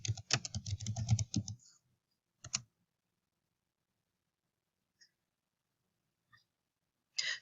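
A keyword search is typed on a computer keyboard, a quick run of close key clicks followed by a single short burst, a few faint isolated taps, and one last flurry of keystrokes.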